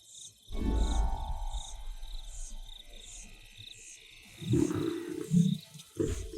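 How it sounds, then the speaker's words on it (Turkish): A big cat's deep roars rumble in a couple of heavy bursts over a steady high insect trill, loud and close. "Bölgesini savunan bir aslanın gürleyen sesi 8 kilometre öteden duyulabilir."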